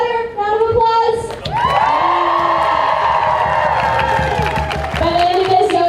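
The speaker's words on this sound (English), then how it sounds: "Can we get another round of applause?" Crowd at the Asheville Climate Strike rally for a Green New Deal erupting in cheers: loud whoops and shrill sustained yells over clapping, close and continuous, rising after a short lull.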